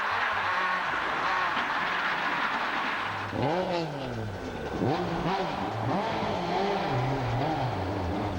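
A Ford rally car on a gravel stage of the 2006 Australian Rally Championship in Western Australia, with switchback corners. Engine revs rise and fall repeatedly over a rough, noisy background, growing louder and more distinct midway.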